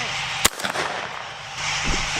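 A single sharp, loud rifle gunshot during a blackbuck hunt in Argentina cracks early and decays into outdoor wind noise, with faint movement afterward.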